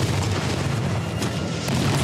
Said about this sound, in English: Are you serious? Rocket launcher?